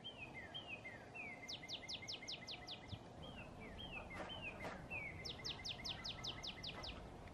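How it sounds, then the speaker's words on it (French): A bird sings in a vegetable garden: two bouts of quick, high, repeated chirping notes, each bout preceded by softer call notes, clear but moderately distant over quiet outdoor background. "Oh, écoutez le oiseau."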